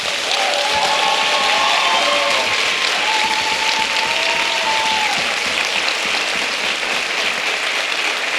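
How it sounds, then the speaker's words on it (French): A large audience applauds choreographers after a dance performance, sustained dense clapping from many hands that holds steady throughout, with faint crowd murmur beneath. "Donc, on peut les applaudir pour ça."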